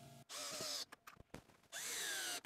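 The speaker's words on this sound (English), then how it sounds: "And now I can secure them in place with some screws." A power drill drives screws into a wooden workbench in two long bursts of whining motor, separated by short clicks and knocks of handling, close and loud.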